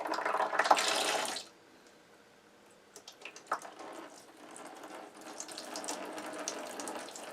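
Sediment poured off the bottom of a beer fermenter while kegging a pumpkin ale: a brief loud gush of liquid splashing out, then quiet trickles, drips and scattered splashes that swell again toward the end.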